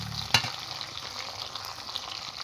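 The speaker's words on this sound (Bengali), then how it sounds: "এবার আমি কেটে রাখা পেঁয়াজ দেবো, খুব ভালো করে আমি ভেজে নেব।" Chopped onions and tomatoes frying in a pan, a steady soft sizzle after a single sharp clink near the start, close and fairly quiet, no talking.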